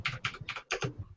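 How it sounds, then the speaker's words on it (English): Furious typing on a computer keyboard during a podcast, with close, rapid bursts of clacking keystrokes separated by tiny pauses. "that furious typing though"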